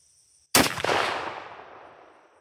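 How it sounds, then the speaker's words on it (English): A single slug gun shot fired at a 100-yard target while zeroing for deer season, a sharp loud blast with a long echoing decay trailing off outdoors. "let's take our first shot and just see where we're sitting at with this slug gun"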